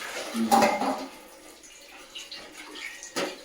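Hot water from a sun-heated pipe pours and splashes in uneven bursts, loudest early on, then trickling more quietly with a final splash.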